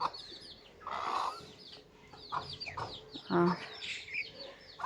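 Village chickens clucking around a rural home, irregular close bursts of clucks and squawks with brief pauses between them, the calls varying in loudness, no clear speech.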